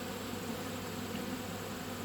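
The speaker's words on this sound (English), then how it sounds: "Nice vigorous bees," Honey bees from an opened hive during an autumn inspection hum as a steady, dense buzz throughout, even and continuous with no voices.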